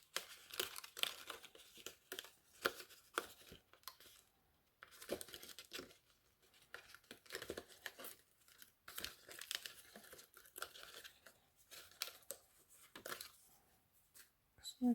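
Paper card-making pieces for a stamped pumpkin and elephant design are punched out and torn free, giving scattered crinkles, tears and small snaps in irregular bursts. The sounds are close but faint, with quiet gaps between them.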